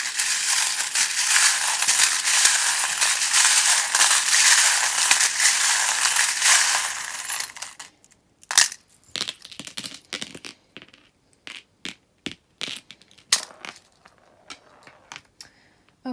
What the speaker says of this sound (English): if you don't like the sound of the charms